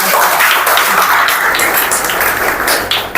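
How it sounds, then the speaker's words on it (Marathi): A loud, dense burst of applause from a crowd at a village Buddhist retreat program fills the space throughout, steady and close. "त्यासाठी एकदा खूप मोठ्या टाळ्या होऊन जाऊ द्या"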